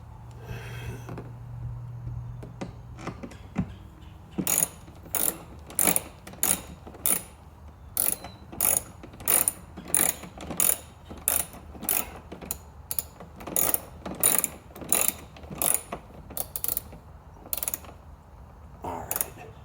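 A ratchet tightens bolts on a 2003-2008 Infiniti FX inner reverse taillight, giving a series of close, crisp clicking bursts in an uneven rhythm after a quiet start, with no talking.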